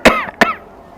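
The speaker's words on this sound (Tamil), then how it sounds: "ஸோ உங்கள் மேலேயே நீங்கள் இருமிக்கிறீங்க அப்படி." Two sharp demonstration coughs into a raised elbow, close and loud, a quick pair with a short gap between them.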